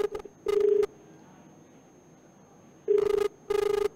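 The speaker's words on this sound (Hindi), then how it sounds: "उनको हम फोन मिला रहे हैं।" A phone call being placed to a nagar panchayat officer: short bursts of dialing tones, then a steady, repeating ringback tone with quiet gaps between rings, with no voices.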